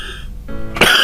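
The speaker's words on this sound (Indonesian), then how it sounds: "Maaf, saya agak batuk." A single sharp cough, close and loud, bursts out near the end after a short lull in a man's Indonesian church small-group Bible-study talk.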